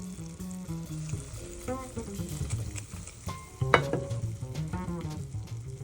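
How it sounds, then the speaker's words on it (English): Butter bubbling and foaming steadily in a pan as it browns for a pumpkin cake's cream cheese frosting, a soft continuous sizzle with occasional faint clinks, close and quiet. "bubble and foam as the water is cooking out of the butter"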